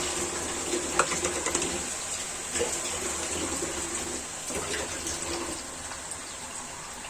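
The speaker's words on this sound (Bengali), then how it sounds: "এই যে অল্প পরিমাণে পানি ব্যবহার করছি ছেড়ে দিলাম পানিটা" Water poured into a cooking pan of bitter gourd gives a steady, fairly soft rushing splash with a few light clatters, and no one speaks.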